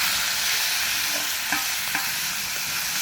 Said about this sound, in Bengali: নেড়ে নিয়ে আমি মৌরলা মাছগুলো দিয়ে দেবো।